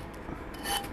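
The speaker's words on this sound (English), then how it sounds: "I like using these sanding blocks." A sanding block rasps against wood in short, even strokes, close and fairly quiet, with no talking.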